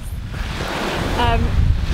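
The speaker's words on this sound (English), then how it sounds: "You hear the waves." Ocean waves wash onto a Koh Lanta beach in Thailand, a steady broad surf rush with wind buffeting the microphone, while a faint voice briefly sounds partway through.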